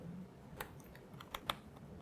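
Light typing on a computer keyboard, a few scattered soft clicks and taps heard close but quietly, alone with no speech.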